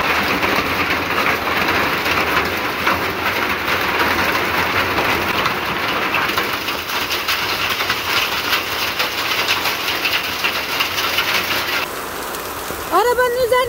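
Large hailstones pelt down in a dense, loud, continuous roar of impacts during a storm, while voices talk over it and a short whistling squeal rises near the end.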